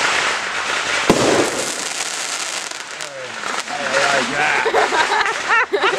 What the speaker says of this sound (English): Those are firecrackers.